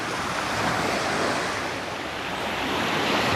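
Waves break and rush along a beach at sunset, a dense, unbroken hiss of surf close by, mixed with gusts of wind noise.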